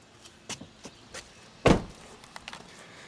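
The rear hatch of a Pontiac Aztek swings shut with one solid, loud thunk, preceded by soft handling clicks and taps and followed by a few light rattles and taps, all close by without talk.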